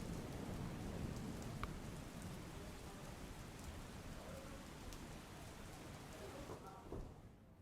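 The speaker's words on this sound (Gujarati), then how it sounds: "ખેડબ્રહ્મા, વડાલીમાં પણ ભારે વરસાદ થયો છે." Heavy monsoon rain pours steadily in Khedbrahma and Vadali, Gujarat, a dense, even roar of downpour that holds near and constant throughout, with a few faint tonal sounds drifting through near the end.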